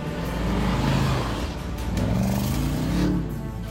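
Audi RS Q8 SUV engine pulling steadily while climbing and driving through a sand field off-road, a continuous loud low drone with rising revs toward the end, no voices.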